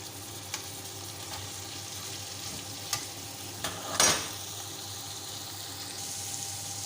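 Chicken pieces fry in a covered pan for a shawarma filling, a soft steady sizzle under low hiss with a few small clicks and one louder clatter near the middle, close by and without voices.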